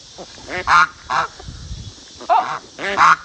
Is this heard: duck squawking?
yes